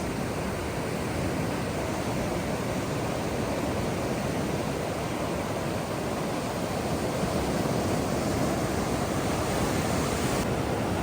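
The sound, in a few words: ocean waves on Rialto Beach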